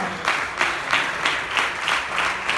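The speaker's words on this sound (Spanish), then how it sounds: "Denle esas palmas al Señor." A church congregation claps together in a steady rhythmic beat, roughly three claps per second, loud and close, a full crowd of hands with no voices over it.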